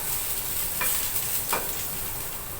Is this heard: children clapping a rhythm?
no